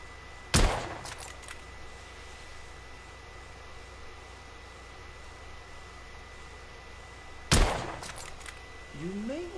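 Two sharp, loud gunshots ring out several seconds apart during target practice in The Order 1886, each with a brief echoing tail over a quiet background hum.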